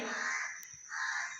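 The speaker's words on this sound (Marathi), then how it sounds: "कावळा त्याच्यासोबतच आहे दुसऱ्या कावळ्याला येऊ देत नाही" Two harsh, raspy crow caws, fairly close, separated by a short pause.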